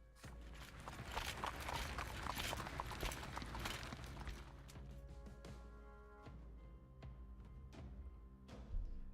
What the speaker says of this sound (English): You hear hooves clacking toward the square, coming from the Silver District.